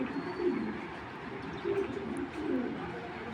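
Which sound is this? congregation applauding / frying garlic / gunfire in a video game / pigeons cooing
pigeons cooing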